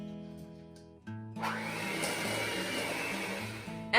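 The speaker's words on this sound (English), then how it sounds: "After mixing up the cream cheese and the butter" An electric mixer beats softened cream cheese and butter for cheesecake balls, starting after a second of quiet and running as a steady, close motor whir with a faint background hum throughout.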